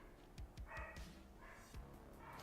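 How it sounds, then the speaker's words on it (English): Faint, muffled barking from a beagle upstairs, several quick yaps in a short burst, distant and thin. "If you guys hear a barking, that's the dog upstairs."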